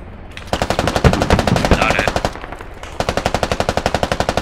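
Rapid automatic gunfire in the military shooter Squad during an invasion near Tallil, with two long bursts of close, loud, evenly spaced shots and a short pause between them.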